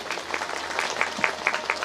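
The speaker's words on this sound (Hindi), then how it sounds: "एक बार ताली बजाकर आपका अभिनंदन करें।" An audience claps in applause at a Hindu devotional religious discourse in Shahdol, a steady crowd patter of many hands with a few sharper individual claps standing out near the end.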